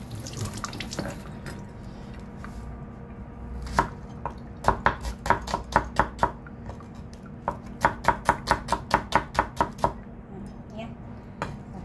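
A knife chops onion and other ingredients on a board in a quick run of crisp, evenly spaced knocks, close and clear, after a few scattered cuts and faint kitchen sounds.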